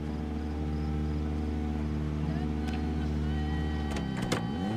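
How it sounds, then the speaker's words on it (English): In the Project Zomboid video game, a car engine drones at a steady high rev, a layered tonal hum held throughout with a couple of brief mechanical clicks and a pitch dip near the end. "Sounds like that engine's kind of revving high, isn't it?"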